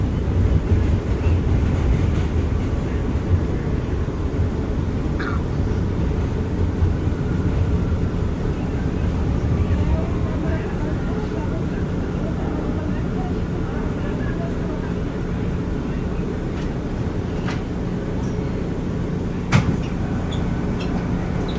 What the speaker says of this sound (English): This is the Queens-bound J train.